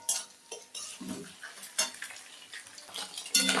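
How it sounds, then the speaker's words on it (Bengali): Egg is stirred in a pan while cooking chow mein: a utensil scrapes and clinks against the metal in irregular strokes over a light sizzle, close and without talking. "আমি ডিমটা একটু ভালো করে নেড়ে দেব।"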